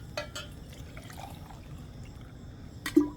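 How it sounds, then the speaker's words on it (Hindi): Water poured from a glass into a pressure cooker while making mutton karahi, quiet trickling and dripping for about three seconds with a few light clinks and a sharper splash near the end. "3 गिलास तकरीबन हम इसमें पानी ऐड करेंगे।"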